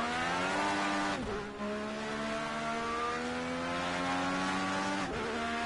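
A race car holds a steady high engine drone on an outlap to warm its tyres, passing close and loud, with brief dips as it shifts gears or lifts off twice along the way.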